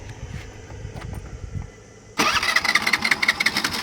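After a few seconds of quiet background noise, a Honda Activa scooter engine suddenly catches and starts, then runs with a loud, pulsing mid-range idle right up close.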